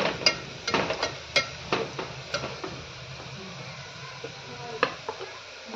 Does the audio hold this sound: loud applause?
no